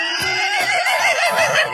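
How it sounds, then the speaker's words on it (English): A single loud, close horse whinny quavers and wavers for under two seconds, with no other sound around it, in a cartoon animal-sounds sequence. "Horse."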